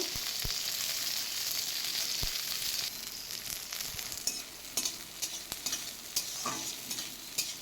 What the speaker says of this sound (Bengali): ব্রাউন কালার করে ভেজে নিচ্ছি